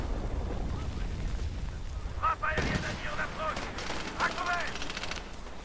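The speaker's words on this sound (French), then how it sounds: "On se protège, là on se prend des tirs." Gunfire in Medal of Honor Warfighter, a dense stretch of shots and rattling bursts over a steady rumble, fairly close and loud, with brief voice fragments mixed in.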